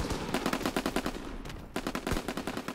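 Rapid bursts of gunfire from a Roblox military shooter, loud and close, with fast repeated shots in runs and a short pause midway.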